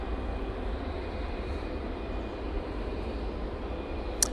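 An Etihad Boeing 777 in hybrid livery taxis at Manchester Airport, a steady distant engine rumble and whine holding level throughout, with a brief click near the end.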